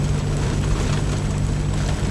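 A rat rod's engine labours up a steep mountain road, a loud, constant low-pitched drone with a steady rumble and heavy wind buffeting, close and unbroken.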